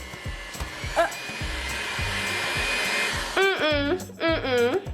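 An electric mixer creams softened butter and white sugar, a steady close motor whir with rhythmic thumps of the beaters, joined near the end by a couple of brief rising whines, with no talking.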